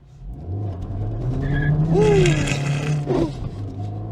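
A car engine revs up and climbs in pitch, then eases off, with a throaty intake roar over steady road and tire noise.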